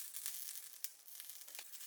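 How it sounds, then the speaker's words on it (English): Halved sausage sizzles in a frying pan, a soft steady crackle with a few sharper pops, quiet and alone. "Fry in a frying pan."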